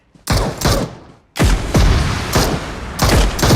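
Rapid bursts of gunfire in the BGMI battle royale game, loud and close, coming in several quick clusters with sharp booming onsets and short pauses between them, with no voices.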